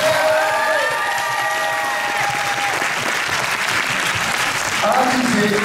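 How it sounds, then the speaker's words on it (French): An audience applauds a third-place winner of the individual contest at the Mang'Azur 2024 cosplay awards ceremony. The clapping is steady and sustained from start to finish, with scattered cheers and voices mixed in. "On peut l'applaudir encore une fois, s'il vous plaît."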